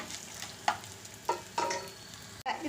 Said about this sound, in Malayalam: ഇനി നമുക്കതിലേക്ക് നമ്മൾ എടുത്തു വെച്ച ഉണക്കമുളക് ഇട്ട് കൊടുക്കാം.